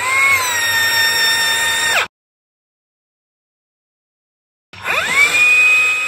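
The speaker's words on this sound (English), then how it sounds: "we got a piece of rebar here, half-inch rebar. We're going to try to give it a bend." Metabo rebar bender driving a half-inch steel rebar to a 90-degree bend, a loud whining motor that cuts off abruptly, leaves a silent gap, then winds up again with a rising tone.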